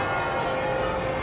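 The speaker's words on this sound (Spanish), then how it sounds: "hace como 10 minutos que están sonando las campanas" Church bells ring at an Anglican church in London along the Southbank, a steady sustained metallic tone heard at a moderate distance over a faint street hum, without any talking.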